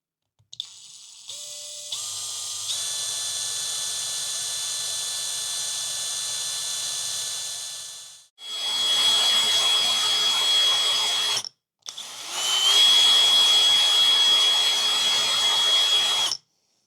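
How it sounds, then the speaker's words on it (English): A small power drill bores a hole in a Hornby R2631X Royal Scot Class model locomotive, a loud, close, high whine that runs steadily, cuts out briefly twice and restarts. "we need to drill down that hole"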